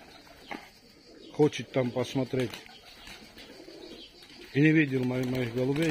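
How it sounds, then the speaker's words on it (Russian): Georgian pigeons cooing in a loft in Tbilisi, Georgia, with someone speaking over the first half before a loud, sustained run of close, throaty coos takes over near the end. "Вот это грузинские голуби."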